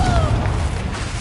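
Confringo blasting spell from Hogwarts Legacy bursts with a single loud, booming impact followed by a short rumbling tail, close and heavy, with a faint whistling spell streak at the start.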